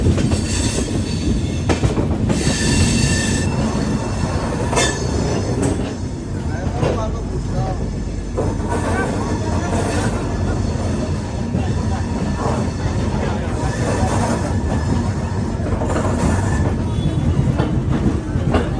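Yuva AC superfast express from Mumbai pulling into Delhi's Hazrat Nizamuddin railway station, heard from on board: a loud, continuous rumble with clattering wheels over rail joints and brief squeals, with faint voices now and then.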